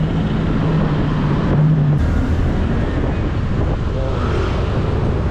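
Voge SR150GT 150cc scooter with idle stop-start fuel-saving system, engine rumble cutting out briefly near the middle and then restarting, heard close amid heavy wind noise from riding.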